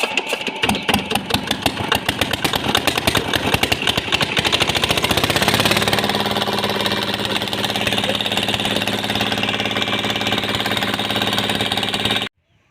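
A generator engine runs loud and close with a rough, rapid chugging pulse that steadies into a constant mechanical drone, then cuts off abruptly at the end.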